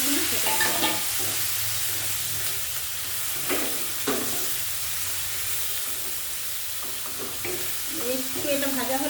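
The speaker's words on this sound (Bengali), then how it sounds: "এবারে আমি এই মশলাটা যেটা রেডি করে রেখেছিলাম সেটা দিয়ে দিলাম।" Ground masala paste frying in oil in a pan, producing a continuous close sizzle and hiss with occasional stirring scrapes, while a voice speaks faintly at moments.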